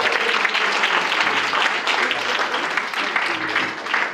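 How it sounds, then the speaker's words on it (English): Wedding guests applaud and cheer for the couple's party, a loud, steady burst of clapping that fills the whole stretch. "Come on, make some noise for our group,"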